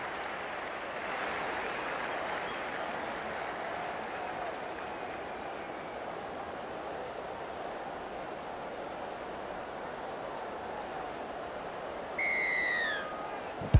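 A rugby league stadium crowd roars steadily at kickoff of an NRLW finals match in Rugby League 26, producing a broad sustained cheer and applause wash that holds level throughout, with a short whistle-like tone near the end.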